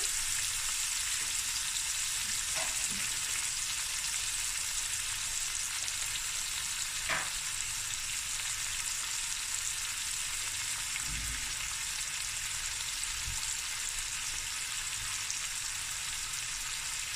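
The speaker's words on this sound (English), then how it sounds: "And now this is just going to fry until it's nice and golden brown." Pepper and fresh curry leaves frying in hot oil for a lamb shank akhni, giving a steady, continuous sizzle close by with a few faint clinks and stirs, and no talking.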